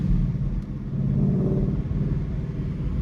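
A supercharged Ford Mustang Mach out for a short drive gives a low, steady engine rumble heard up close from inside the car, staying even throughout.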